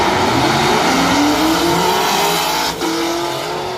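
A 2010 Camaro with injection roars hard down a drag strip, its loud steady engine note rising through the gears with a brief dip at a shift, close and continuous with no voices.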